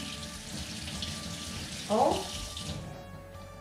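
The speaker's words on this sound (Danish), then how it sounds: "Den skal naturligvis vaske, selvom den er økologisk. Så skal vi lige bruge grundigt her under vandet." Tap water runs steadily into a sink while an organic lemon is washed under it, a faint continuous splash with a brief louder swell, and a voice speaks over it.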